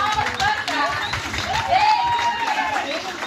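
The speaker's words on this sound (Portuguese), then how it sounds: "Palmas para cá!" An audience claps together in a room, a steady patter of applause under a voice talking over it.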